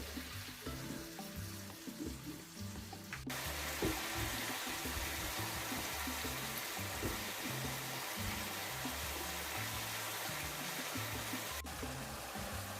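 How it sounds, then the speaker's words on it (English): About half a cup of water poured into browning taco meat in a hot pan sets off a loud, steady sizzle a few seconds in that hisses on to the end over background music. "Now I'm just going to add about half a cup of water to put some moisture back into this."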